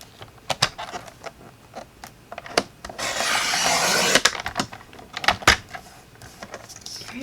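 Cardstock is cut to size for a decorative card box, with sharp clicks and taps and one sustained rasping cut through the sheet midway, all close and clear.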